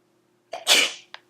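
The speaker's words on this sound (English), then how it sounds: "I gotta sneeze" A single sharp sneeze, with a quick intake of breath just before and a small sniff right after, close and loud against silence.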